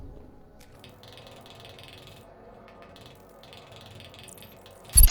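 A wrench ratchets in quick, quiet clicking runs while a sewer pipe is fixed in the Sewer Call video game, ending with a sharp loud clank.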